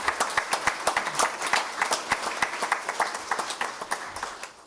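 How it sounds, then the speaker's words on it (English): Applause from the audience at a first responder awards ceremony, led by a few close, crisp individual claps that stand out above a softer, thin spread of clapping across the room, fairly quiet overall. "A round of applause for the Medal of Honor Committee."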